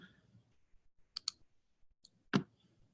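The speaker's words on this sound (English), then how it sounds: "And I can just click to upload one." A computer mouse gives a few faint, crisp clicks, with a double click partway through and a louder single click near the end, set against near silence.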